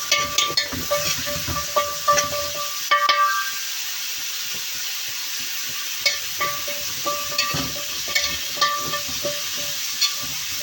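Carrots, onion and garlic frying in a pot for lentil soup, with a steady hiss of sizzling oil and intermittent scraping and clinking from a spoon stirring the vegetables, close and continuous.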